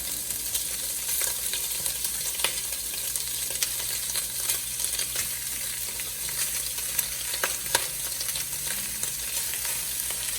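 Sausage frying in its own rendered fat with no added oil, a steady close sizzle with scattered crackles and pops and faint stirring, no voices.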